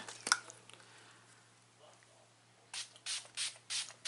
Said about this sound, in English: for this I'm going to actually use a spray